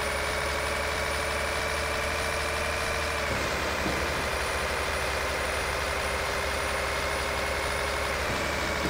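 A Kenworth T-660 truck with a Cummins engine idles in Euro Truck Simulator 2, a steady low droning rumble with a constant tonal hum that shifts slightly in pitch partway through, with no talk.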